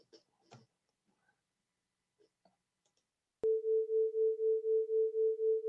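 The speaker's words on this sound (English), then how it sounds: "You'll hear a little beat pattern, and that's the sound of the waves not quite in sync with each other." Two slightly detuned sine waves sound together as one steady pure tone that swells and dips in a slow, regular throb of beating. The tone starts abruptly after a quiet stretch of faint small noises.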